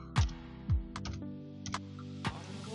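A captcha is typed on a computer keyboard, giving a handful of light, close key clicks at uneven intervals in a quiet room.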